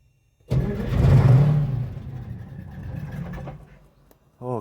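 A Peterbilt rat rod truck engine cold-starts with a loud cranking catch, then revs hard and settles into a rough lower run before cutting off, with a brief fresh burst at the end.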